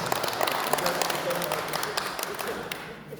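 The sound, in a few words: applause at committee meeting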